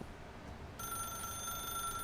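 In the video game The Stanley Parable, a telephone starts ringing partway through after a quiet stretch, its bright electronic ring sustained and moderately loud with no talking.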